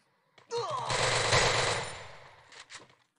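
Machine gun fire in the mobile battle game Garena Free Fire: one loud, sustained rattling burst lasting about two and a half seconds, trailing off into a few scattered final shots.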